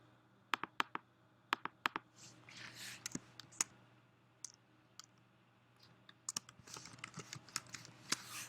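Keys clatter on a computer keyboard in irregular bursts of sharp clicks, close and fairly quiet, with short pauses between runs of typing and a low steady hum underneath.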